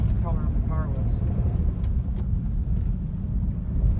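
A 1946 Hudson Commodore 6 with a 3-speed manual transmission cruises through residential crescents, its engine a steady low rumble throughout while someone talks over it.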